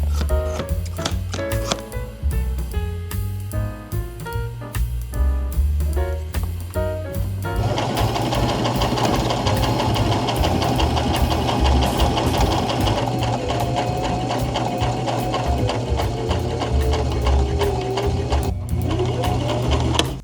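Sewing machine running a shirt seam during mending, a close, loud mechanical whir that starts and stops in short bursts before settling into a long continuous run.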